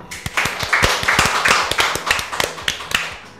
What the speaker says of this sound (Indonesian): Ada bunyi tepuk tangan ya